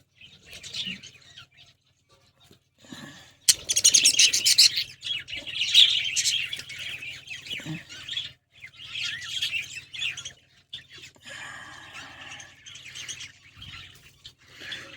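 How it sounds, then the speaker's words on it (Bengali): A pet bird chirps in sharp, scattered bursts while being caught by hand, with wing flutters and handling rustles in between, close and fairly loud. "আমি পাখিটাকে ধরছি, ধরে তারপরে এদেরকে আমি খাইয়ে টোটালি এদেরকে ছেড়ে দেবো"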